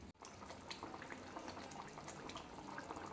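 Vegetarian jackfruit kofta curry simmering uncovered on a gas stove over lowered heat, giving a soft, steady bubbling and popping with small liquid blips, faint and continuous, no voices.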